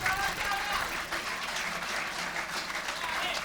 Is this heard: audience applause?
yes